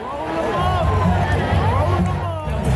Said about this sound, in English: there's way too many Mets fans in the stands cheering about this